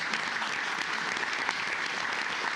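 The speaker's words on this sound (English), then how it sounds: "So let's give a big round of applause for Heather." Steady applause from a crowd at a commissioners court meeting, dense clapping sustained evenly throughout without any voices breaking through.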